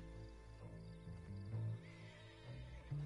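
A horse in a video game neighs close and clear, a whinny that rises and falls over a few seconds, alone with no talking.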